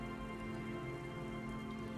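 Steady rain falling in Disco Elysium, a constant soft hiss of drops on surfaces with a low ambient hum underneath, even and quiet throughout, no speech.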